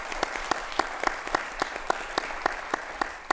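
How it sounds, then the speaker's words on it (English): Audience applause at a presidential library book event, a steady bed of many hands clapping with one nearby clapper standing out in sharp, regular beats about every quarter second. "If I could just lead a round of applause for my friend Warren Finch"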